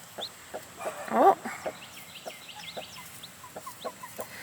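A hen clucks softly in short, evenly spaced calls near her eggs and chicks, fairly faint and close, with a brief louder squawk partway through and a quick spoken word.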